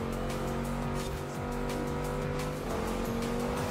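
Cars race in the snowy winter season of Forza Horizon 4, with a Mazda MX-5 pushed into a wall: steady, loud engine drone throughout, broken by brief tire squeals and scraping skids, with no voices.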